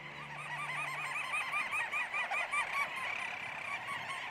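Little auks, the smallest seabirds, call at their boulder-scree nesting site in Greenland: a dense, continuous chorus of chattering, rhythmic trilling calls from many birds, moderately near and steady throughout.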